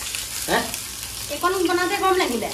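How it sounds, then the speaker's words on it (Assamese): Paneer frying in a pan gives a steady broad sizzle, with someone speaking briefly over it in a cooking setting. "ইফালে পনীৰ ভাজি আছে"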